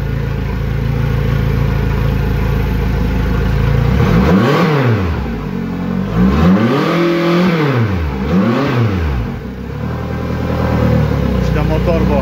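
An outboard boat motor, running for an oil change and servicing, revs up and down in several loud surges near the listener, its pitch rising and falling repeatedly while a voice speaks over it.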